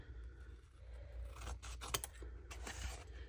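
Scissors snip around a paper journal cover in a snake-themed craft, a few close, crisp cuts in quick succession over a quiet room with low hum.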